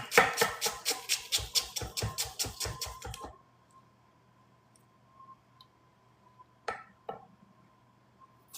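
A knife chops onions on a board for vegan stir-fry noodles: a quick, steady run of about a dozen crisp thuds, then near silence with a faint hum and two isolated taps.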